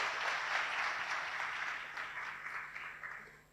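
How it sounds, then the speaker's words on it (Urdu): Audience applauding at a talk at IBA Karachi, a fairly distant wash of clapping that slowly tapers off with a faint steady hum underneath. "ان کے لیے تالیاں بجائیں"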